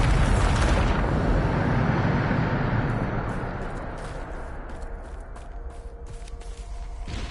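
Bombarda explosion spell in Hogwarts Legacy, a loud blast that booms at once and then rumbles and fades over several seconds, with debris clatter trailing off alone.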